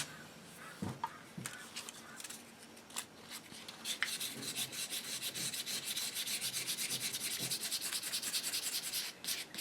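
Hand sanding of a wooden HW30 air rifle gunstock: rhythmic back-and-forth rubbing strokes, close and fairly quiet, with a few light taps early on before settling into steady repeated strokes.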